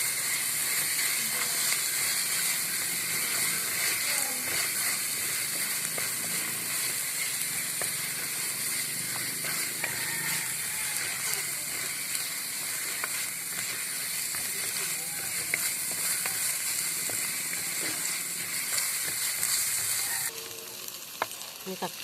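Ginger, garlic, green chilli, cumin and fennel masala sautéing in a pan for a chicken parts gravy, a steady close sizzle and hiss with occasional scraping stirs throughout, easing slightly near the end.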